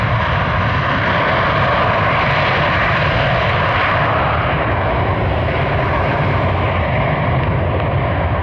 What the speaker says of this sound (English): Now we've got a general aviation aircraft landing on runway 6.